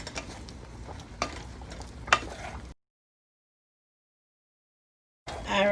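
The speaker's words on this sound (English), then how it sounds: "And stir that around. Let these shrimp cook nice for us." Shrimp coated in Creole seasoning sizzle in a pan while a utensil scrapes and stirs them, with clinks against the metal, a sudden stretch of silence, then loud frying returning at the end.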